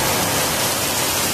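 Heavy unseasonal rain in a storm, a dense steady hiss of downpour that fills the whole stretch at constant loudness, close and unbroken, with no voices.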